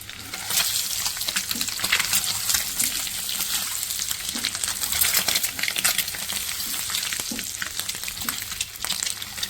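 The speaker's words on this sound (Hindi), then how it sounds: "इसको फ्राई एक साइड से हो जाए, फिर मैं इसकी साइड चेंज करूँगी।" Boiled eggs sizzle and crackle steadily in hot oil in a pan while being fried for methi egg curry, with occasional clinks of a utensil against the pan.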